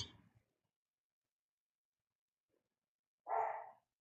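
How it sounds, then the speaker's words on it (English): A dog barks once from another room, a single short muffled bark after a brief rustle and a long stretch of silence. "My other dog's barking."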